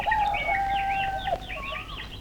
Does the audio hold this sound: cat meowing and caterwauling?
no